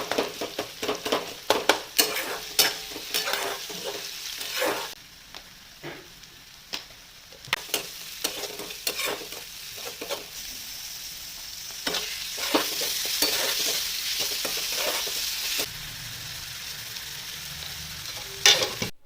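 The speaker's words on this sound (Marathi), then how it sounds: "कांदा, टोमॅटो, मिरची, कढीपत्ता हे सर्व तेलामध्ये घालून व्यवस्थित परतून घेतलं" Onion, tomato, chili and curry leaves sauté in hot oil with a steady close sizzle, broken by frequent scraping stirs and clinks of a spoon against the pan, with brief quieter gaps between bursts of stirring.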